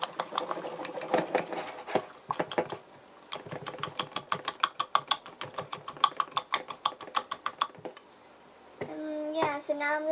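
Chocolate mug cake batter is stirred with quick, rhythmic clinking and scraping taps of a utensil against the mug, with a short pause midway and a voice briefly heard at the end.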